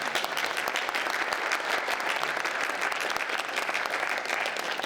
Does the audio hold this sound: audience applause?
yes